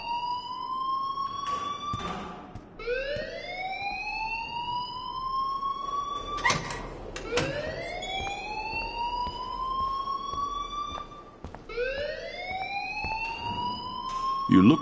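Fire alarm ringing inside the Life is Strange video game, a repeating rising electronic whoop that loops again and again at steady volume, with background game sound and some talk mixed in.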